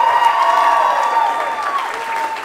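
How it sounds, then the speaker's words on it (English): Wedding guests at Atkinson Country Club in New Hampshire applauding the bridal party, a dense, sustained round of clapping from a full room with a light cheer mixed in. "Let's give them a big round of applause."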